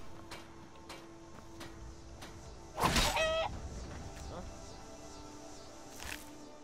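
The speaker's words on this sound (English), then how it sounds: "I guess I can't kill the chickens" Chickens clucking in the video game Skyrim, a few soft clucks near the start and a louder burst of squawking in the middle, set over a quiet game ambience.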